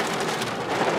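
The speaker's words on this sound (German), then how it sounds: "Und jetzt Gewitter." Heavy rain pounds steadily on a car during a thunderstorm, a dense continuous roar close around the vehicle with no voices.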